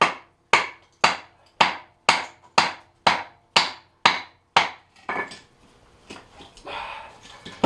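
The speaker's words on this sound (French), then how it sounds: "vous avez un couteau pour fendre du bois" A knife is driven through a wooden log with a baton to split firewood: ten sharp, evenly spaced wooden strikes ring out loud and close, followed by softer scraping and rustling of the split wood.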